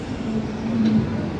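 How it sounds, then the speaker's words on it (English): An old Blackpool tram rolls past on a busy seafront during Christmas by the Sea, giving a steady, fairly close rumble with a sustained humming tone throughout the brief pass. "Old trams are running as well."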